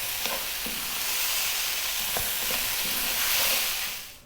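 Fried rice with spring onions is stirred in a hot pan, a steady sizzle with a few sharp scraping clicks of the utensil, fading out at the end, no voices.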